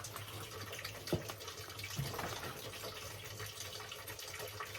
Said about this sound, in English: This is going to need a lot of water to get to the moisture level that I like.